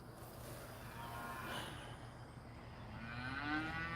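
Cows mooing, one drawn-out low bovine call with a rising, snorting edge, moderately close over faint background noise.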